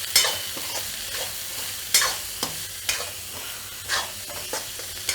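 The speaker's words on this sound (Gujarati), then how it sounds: "હવે આપણે એમાં કોબીને ગાજર જે કાઢ્યું હતું એ આપણે એડ કરી દઈશું એને મિક્સ કરી લઈશું આપણે" Finely chopped cabbage and carrot are stir-fried and mixed in a hot pan for Manchurian, continuous sizzling broken by several sharp spatula scrapes and tosses at irregular intervals, with no talking.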